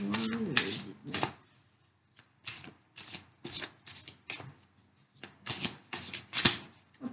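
Tarot cards are shuffled by hand in a string of crisp riffling bursts with short pauses between, close and clear, with a brief voice near the start.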